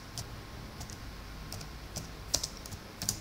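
Typing into a Microsoft Excel cell on a computer keyboard: a quick run of light, close key clicks with a couple of firmer taps near the end, and no voice.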